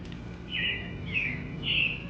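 Recorded robin chirps on the Carousel of Progress ride at Magic Kingdom, Walt Disney World: three bright, high chirping bursts spaced about half a second apart over a steady low hum, with no talking.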